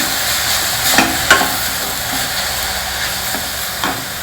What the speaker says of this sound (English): Lightly saute all the ingredients together.